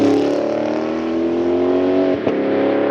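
A Lexus IS500 V8 fitted with an aftermarket catback exhaust blasts past at full throttle, a loud, sustained roar holding steady with a brief sharp spike near the end as it goes by.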